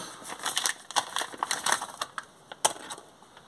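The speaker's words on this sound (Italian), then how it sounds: "Ora è il turno della ricotta, quindi andiamo ad aprirla." Crinkly plastic ricotta packaging rustles and crackles up close in a rapid, irregular series of sharp crunches as it is pulled open.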